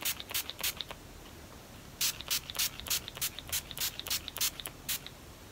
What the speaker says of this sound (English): So I'm just going to spray this. It's the NYX Dewy Finish long lasting setting spray.